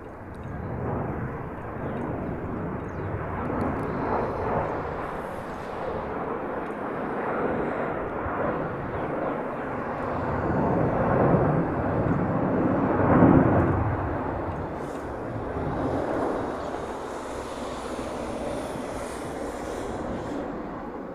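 A Hawaiian Airlines airliner lands on the reef runway at Honolulu, its broad engine roar rumbling steadily for the whole stretch and swelling slightly near the middle, heard from a distance with no talk.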